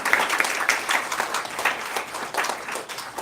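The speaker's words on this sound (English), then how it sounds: "So, more applause." Students and guests at a scholarship awards ceremony break into lively applause, many hands clapping in a close, uneven patter that swells and dips slightly but carries on without talk.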